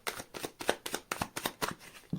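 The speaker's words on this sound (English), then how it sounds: "We're going to do a little quick shuffle." Tarot cards get a quick shuffle up close, about a dozen crisp, evenly spaced papery riffles in steady rhythm with no talking.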